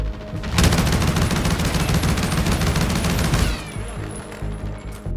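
Oden assault rifle in the Modern Warfare beta firing a sustained full-auto burst of about three seconds, loud and rapid, followed by shell clinks and fading echo.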